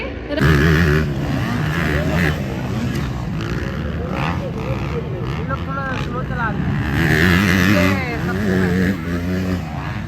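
Stunt motorcycles revving and riding around a track at a bike stunt show in Raipur, engines droning loudly and rising in pitch over continuous crowd noise and an announcer speaking.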